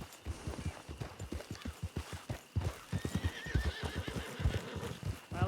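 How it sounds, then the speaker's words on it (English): A wild horse in the Red Dead WildRP game world whinnies loudly and close, its neigh ringing out over steady hoof clip-clops from a horse moving at a walk. "Wild horse, move out of the way."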